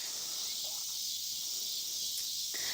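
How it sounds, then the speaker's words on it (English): Cicadas shrilling from a tree overhead, a dense, steady high buzz filling the whole stretch at near-constant loudness with no talk. "the cicadas are so loud under this tree"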